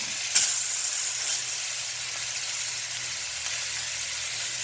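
Short ribs searing in butter in a pan, a continuous close sizzle with a brief sharp spatter near the start, then an even hiss carrying on alone.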